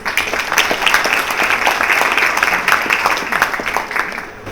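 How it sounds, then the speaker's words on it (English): Audience at a conference event in the UAE applauds the national anthem performers, a pianist among them, with lively, dense clapping in a hall that stays strong throughout and tapers slightly at the end. "Let's give them a big round of applause."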